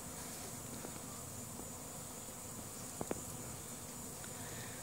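Honey bees from a wild hive in a pasture make a faint, continuous buzzing hum, heard at a distance under a steady outdoor background, with a couple of brief soft clicks.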